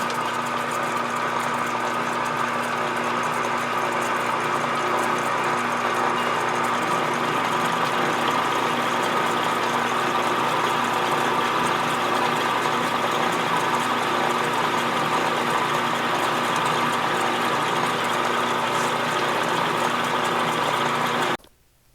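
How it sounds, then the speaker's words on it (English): A brand new 1/4 inch end mill cuts metal on a milling machine, a loud steady mechanical drone and whine holding even for about twenty seconds before stopping abruptly. "this brand new 1/4 inch end mill is going through there like butter"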